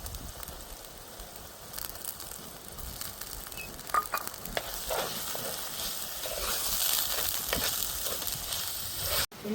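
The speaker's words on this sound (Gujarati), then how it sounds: "હવે આપણે એને ધીમો તાપે 2 મિનિટ શેકી લેવું" Green onions, green garlic and green tomatoes roast in a pan over low heat, giving a steady sizzle with occasional stirring scrapes that build a little louder toward the end, with no voices.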